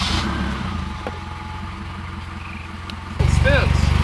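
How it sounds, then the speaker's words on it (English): A Honda Civic fitted with a new turbo fires up on its first start, the engine catching abruptly and settling into a loud, steady rumble, with a rising whistle heard briefly as it catches and people talking underneath. "The Civic's about to start up. First start up, new turbo."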